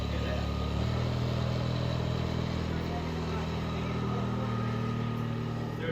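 A side-by-side UTV engine runs steadily on a farm with a seven-year-old at the wheel, a continuous close mid-pitched drone holding an even level throughout.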